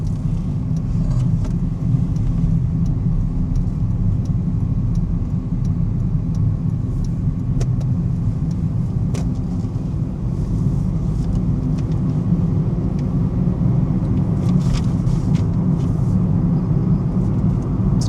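A small, nippy car on a test drive gives a steady low engine and road rumble from inside the cabin, continuous and fairly loud throughout, with no one talking.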